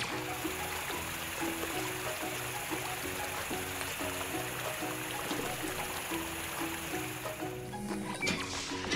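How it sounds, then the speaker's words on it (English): A water jet sprays at a cartoon car wash, a constant rushing hiss with a repeating patterned backdrop of music-like tones underneath, steady throughout and briefly changing near the end. "The water jet should soften up the gum a bit."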